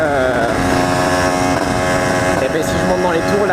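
A motorcycle engine is revved upward to higher RPM, producing a loud, continuous buzzing drone with rising harmonics that holds steady throughout.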